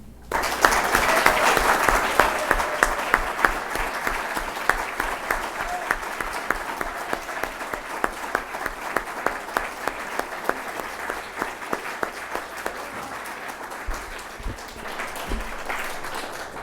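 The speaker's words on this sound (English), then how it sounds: "close with a final round of congratulations and applause for Professor Arinze and Professor Jaffe." Sustained applause from a large audience, dense steady clapping that starts strong and continues for a long stretch, tapering slightly near the end.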